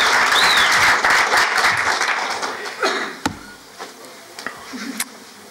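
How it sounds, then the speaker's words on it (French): Audience applause at a talk on web reputation, a dense burst of clapping that fades within a few seconds into a few scattered claps. "Il n'y a pas d'applaudissements là?"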